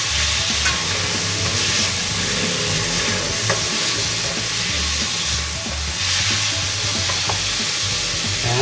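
Plenty of tomatoes sauté in a pan for a chicken dish: a continuous close sizzle with frequent spatula stirs scraping through it.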